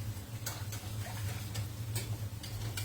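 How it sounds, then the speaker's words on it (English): A whisk beating a thickening tuna casserole sauce in a pan, a quick, regular ticking and clicking of metal over a low steady hum, close and continuous. "I had to turn the heat off and grab a whisk"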